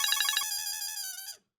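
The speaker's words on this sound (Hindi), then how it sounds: "लो, उसी का फोन आ गया।" An incoming-call ringtone on a phone in a scene from the Indian sitcom Taarak Mehta Ka Ooltah Chashmah: a bright, repeating electronic melody that chirps for about a second and a half, then cuts off abruptly.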